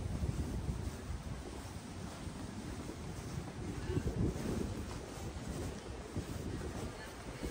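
Cold breeze blowing beside a long canal in Leiden, a steady broadband rush buffeting the microphone at moderate level throughout, with soft gusting swells and no clear voices.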